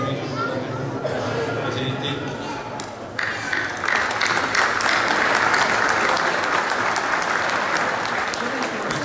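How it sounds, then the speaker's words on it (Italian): Sustained crowd applause at a reunion gathering of an Italian mountain artillery regiment's veterans group, dense and steady, swelling louder after a few seconds, with scattered voices underneath. "Devo dire un grazie, un applauso alla comunità del reggimento."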